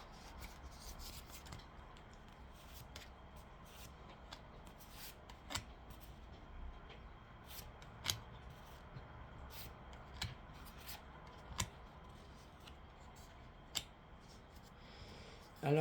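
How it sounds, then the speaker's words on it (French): Tarot or oracle cards shuffled and dropped during a love-reading session, a soft continuous rub and rasp with a few sharp taps as cards fall, quiet and close, with no talking. "Ah, moi j'ai des cartes qui tombent."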